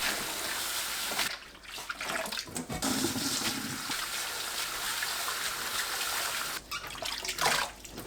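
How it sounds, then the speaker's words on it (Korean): Bellflower roots, salted and rubbed, get rinsed in water: a continuous splashing, sloshing wash with brief pauses, fairly loud and steady, and no one speaks. "물에 두 번 헹굽니다."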